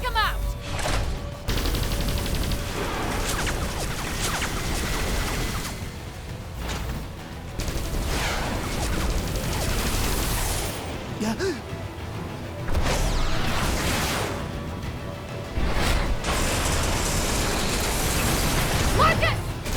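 Missile strikes and explosions roar in the Xenoblade Chronicles X: Definitive Edition action scene: a dense, continuous barrage of blasts and mechanical clatter mixed with music and voices throughout.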